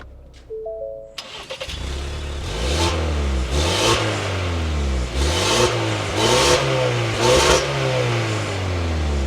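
A 2025 Ford Explorer ST-Line engine cranks and catches, then settles into a steady running idle with several revs rising and falling, loud and close.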